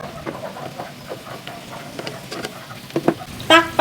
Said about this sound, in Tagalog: Parang ipiprito-prito lang natin ng konti.